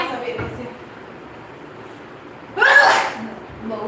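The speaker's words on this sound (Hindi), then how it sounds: "छींक आ रहा है, नाक से पानी निकल रहा है" A single loud sneeze bursts out near the mic, standing clear over a quiet background with faint talk nearby.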